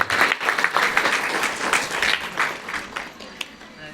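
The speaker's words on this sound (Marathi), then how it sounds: "तुम्ही टाळ्या वाजवत जा." A crowd gathered at the close of a pilgrimage claps steadily, the dense applause rising and falling in waves, with voices mixed in under the clapping.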